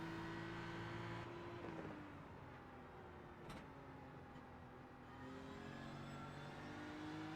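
GT3 race car in a sim racing game at Watkins Glen, engine droning steadily as it accelerates, pitch sliding and climbing after a brief lift, with a sharp click midway and no talk.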